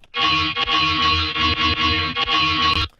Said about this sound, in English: It's just this main bass right here that sounds like this.